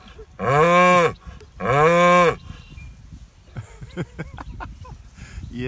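Cows in a pasture give two long, loud, drawn-out moos close by, one after the other. Faint rustling and ticking follow in the open air.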